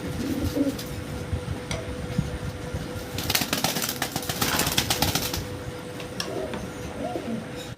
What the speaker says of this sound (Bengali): এখানে খুব সুন্দর এক জোড়া কবুতর